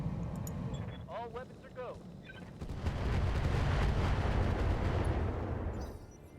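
Incendiary weapon fire in the RogueTech BattleTech mod, a heavy roaring burst of launches and detonations that swells loudly after a short voice and rumbles on for several seconds.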